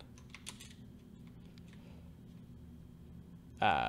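Computer keyboard typing during game coding, with soft scattered key clicks and taps at first, then a quiet stretch and a sudden louder burst at the very end.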